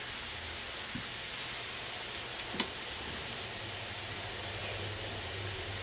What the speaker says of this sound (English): Once our leeks are softened, we're going to add 2 roughly chopped cloves of garlic